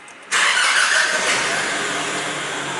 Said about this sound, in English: To start the vehicle, simply insert and turn the key.